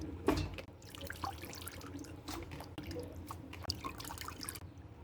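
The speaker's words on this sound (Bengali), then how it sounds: "সুন্দর করে ধুয়ে নেব, বেশ কয়েকবার ধুয়ে নেব, যাতে ভিনেগারের গন্ধ না থাকে।" Pieces of mutton being washed in a basin of water, with faint dripping, trickling and sloshing plus scattered light knocks and splashes, quiet and close throughout, with no talking.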